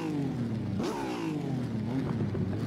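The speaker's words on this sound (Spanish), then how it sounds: "Gruñón el V12. Suena enfadado, como que odia al mundo, ¿no?" The V12 of a TVR Cerbera Speed 12 prototype revs up in a loud, gruff rising surge, then settles into a rough, steady growl heard close by with no talking.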